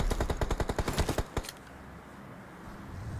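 Rapid bursts of automatic gunfire in a PUBG match on the Erangel map, about a dozen sharp close shots in quick rhythm that stop abruptly after a second and a half, leaving a low ambient hush.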